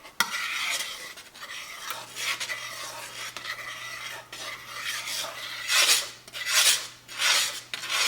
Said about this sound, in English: you want to keep mixing this until it's completely mixed